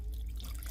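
Water poured into a bowl of Kerala achappam rice batter, a close, steady trickle and splash that runs without a break for under a second, with nobody speaking.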